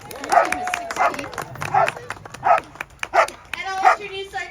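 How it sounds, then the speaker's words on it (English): Sled dogs from a team of sixteen in Juneau, Alaska, give a steady run of loud, close barks and yips, roughly one every half second, with some higher whining between them. "Let's hear from the dog."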